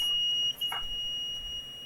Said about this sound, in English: our buzzer starts to ring.